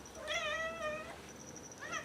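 A cat meowing during a nail trim at a veterinary setting: a drawn-out, fairly close meow followed by a shorter second meow, with no talking.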